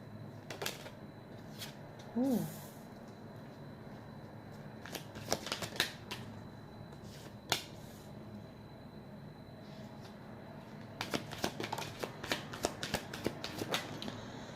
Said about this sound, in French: Je tire quelques cartes et je vous raconte après.